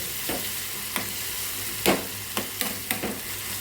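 Vermicelli upma ingredients frying and being stirred in a pan make a steady broadband sizzle, with several sharp scrapes and knocks of the spoon against the metal. No voices are present.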